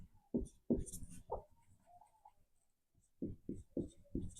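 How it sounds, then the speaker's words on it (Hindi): Pen strokes on a board during a chemistry lesson: a few short, sharp scratches, a pause, then another quick run of four strokes, all close and distinct. "थोड़ा बड़ा लिखते हैं।"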